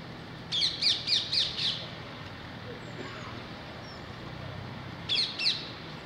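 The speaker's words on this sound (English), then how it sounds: "There is said parakeet." A parakeet on a countryside walk near Woldingham, England, gives a rapid run of five harsh, shrill calls, goes quiet over a soft background hum, then calls twice more near the end.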